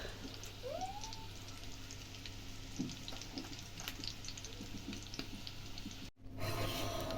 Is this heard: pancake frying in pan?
yes